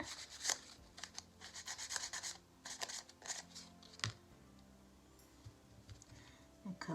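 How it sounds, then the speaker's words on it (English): Sandpaper rubs paint off a small pendant in quick, close, rasping strokes, coming in bursts and then pausing. "now you're just sanding some of the actual paint"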